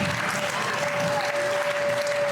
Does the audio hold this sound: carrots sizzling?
no